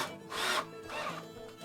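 A power drill drives screws into wood while building a farmhouse-style magic mirror photo booth frame, two whirring bursts of the motor rising and falling close by, with no talk.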